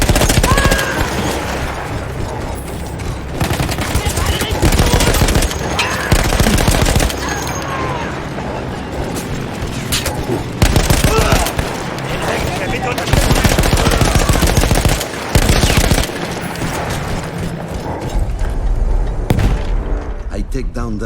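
Machine gun fire in the Battlefield 1 video game, loud sustained bursts of rapid shots with short gaps and booming impacts, under intermittent voices.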